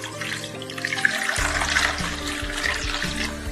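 Clean water pours and splashes into a bowl holding three pears and a spoonful of salt, a steady running gush that stays close and clear with no talking.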